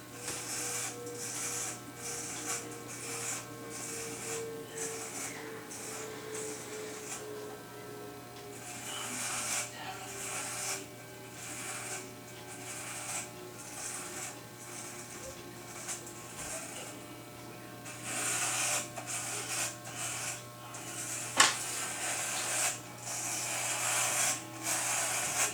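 Electric hair clippers buzz in bursts as someone shaves their own head, a steady low motor hum with rhythmic rasping strokes, fairly close, with a short sharp knock near the end.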